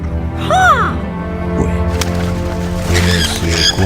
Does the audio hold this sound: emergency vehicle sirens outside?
no